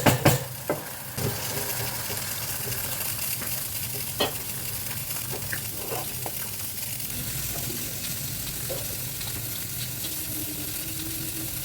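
Spiced mince fries in a pan with a steady, close sizzle, while a spoon scrapes and knocks against the pan now and then, loudest at the start.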